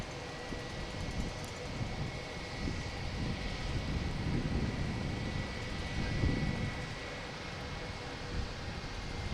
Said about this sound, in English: All right, is this guy taking off here, United?